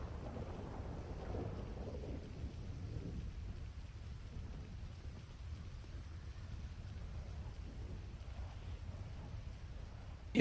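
A thunderstorm outside with rain: low rumbling thunder rolls early on, then a steady quiet hiss of rainfall and a faint low drone, all distant and muffled, with no voices.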